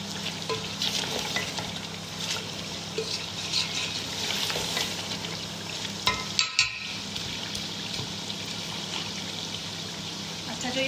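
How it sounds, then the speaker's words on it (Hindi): Chicken and ground nihari masala roasting in a pan, a continuous sizzle with stirring and scraping all the way through, with a few louder knocks and a brief drop in the middle. "अब हम इसकी अच्छे तरीके से करेंगे पूरी भुनाई"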